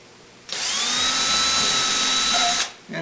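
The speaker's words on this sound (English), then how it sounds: "I'm going to take my 1/8 inch drill with a collar stop on it and just go ahead and drill" An electric drill with a 1/8 inch bit and collar stop whirs steadily for about two seconds, boring pilot holes in wood, starting and stopping abruptly, high-pitched and close, with nothing else around it.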